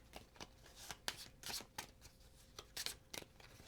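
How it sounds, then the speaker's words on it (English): Doomlings game cards are shuffled close up, giving a string of crisp riffle bursts at an uneven rhythm with short pauses between them, and no talking. "So we shuffle."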